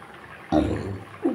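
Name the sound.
pabda fish added to simmering mustard gravy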